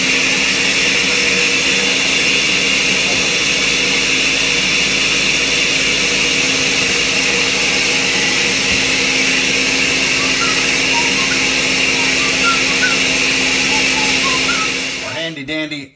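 A food processor runs continuously as it blends hummus with olive oil added gradually, a loud steady motor whine and whir lasting about fifteen seconds before cutting off abruptly at the end.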